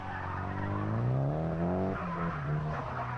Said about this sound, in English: You've just got to keep the car sideways as long as possible, basically.